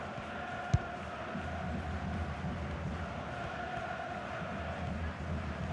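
A stadium crowd in a FIFA 22 World Cup match, Croatia against Morocco, keeps up a steady, faint roar of noise throughout, with one brief sharp thump early on.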